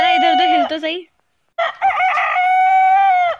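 A human voice imitates a rooster's crow in two drawn-out, wavering calls separated by a short silence, close and loud, in a playful food-challenge setting.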